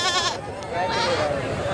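Horned goats at a Friday livestock market in Dera Ghazi Khan, bleating nearby over a steady murmur of a busy crowd, with someone talking across most of it.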